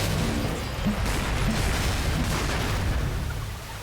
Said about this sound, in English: the auto cannon's awesome